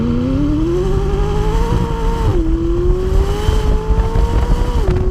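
A bright orange McLaren 600LT with a 3.8-litre twin-turbo V8 and top exit exhausts drones steadily, its engine note rising in pitch, dipping sharply, then climbing again and dropping once more, loud and close throughout.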